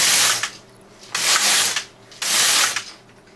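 A knitting machine carriage sweeps back and forth across the needle bed while knitting rows of a feather and fan pattern, giving three loud ratcheting, clattering passes of about a second each, separated by short pauses.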